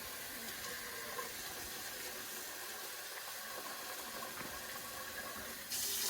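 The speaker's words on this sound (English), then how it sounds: "So I'm going to go and wash the rice." Rice being rinsed in a sink, water running and swishing steadily under a faucet for steamed rice, a continuous close splashing wash with no talking.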